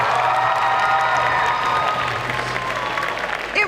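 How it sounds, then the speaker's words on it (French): An audience at a Belgian cosplay selection event applauds steadily and loudly, with some cheering and whoops mixed in. "Je vous demande de les applaudir bien fort aussi."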